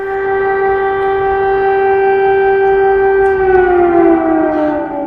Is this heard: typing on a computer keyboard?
no